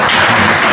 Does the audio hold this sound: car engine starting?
no